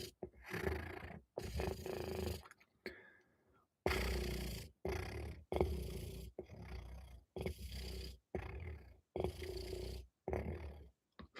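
A voice imitates a cat purring with rough, rumbling bursts, repeated in a slow rhythm with short pauses between.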